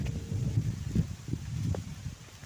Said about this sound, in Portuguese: Vento, vento e frio.